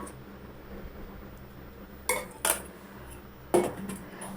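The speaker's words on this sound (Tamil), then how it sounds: "ஆட் பண்ணி நல்லா மிக்ஸ் பண்ணி விட்டுக்கோங்க." Blondie batter being mixed after melted chocolate is added, heard as a few sharp clinks of a utensil against a bowl over a quiet background, with three distinct knocks spread through the stretch.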